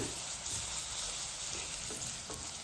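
Onions fry in hot oil with ginger-garlic paste and turmeric, making a dense, even sizzle that is close and continuous, with faint stirring scrapes beneath it and no voices.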